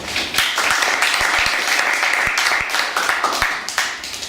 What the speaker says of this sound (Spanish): ruego por favor un fuerte aplauso